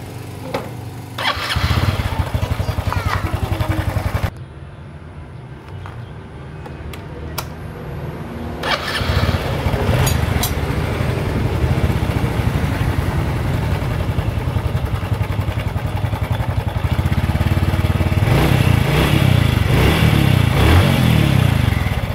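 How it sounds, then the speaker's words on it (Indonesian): Honda Revo motorcycle engine starting and idling with a worn, slack cam chain, a close, continuous mechanical clatter and rattle over the running engine that grows louder and busier after the engine catches. "Nah ini terdengar jelas suara rantai ketengnya bunyi ya"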